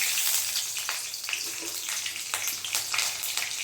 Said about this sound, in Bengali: এবারে আমি কড়াইতে দেখো কালো জিরে ফোড়নে দিচ্ছি